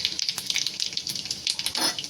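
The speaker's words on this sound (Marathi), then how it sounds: "जिरं तडतडलं" Cumin seeds crackling in hot oil: dense, irregular sputtering pops and hissing crackles, close and moderately loud, with a brief stronger burst of spitting toward the end and no talking.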